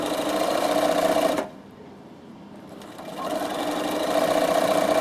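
A Bernina sewing machine stitching elastic onto fabric for Christmas crackers, a fast even whirring hum that stops briefly for about a second and a half before resuming at full speed, close and alone.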